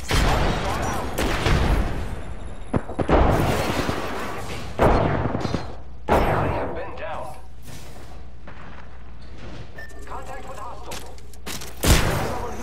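A frag grenade thrown and going off in the Apex Legends video game sounds among heavy gunfire, with several loud booming thuds and rapid shots in an intense firefight.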